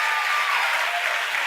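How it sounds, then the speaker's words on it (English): A crowd at SpaceX celebrating the deployment of the Bangabandhu Satellite 1 breaks into loud, dense applause that holds steady through the short stretch, with a few voices mixed in. "the crowd here at SpaceX is extremely excited"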